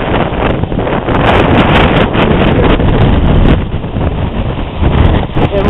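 Strong wind blows off the lake at Glendalough, Ireland, buffeting the microphone in a loud, continuous roar that swells in gusts throughout, with no voices.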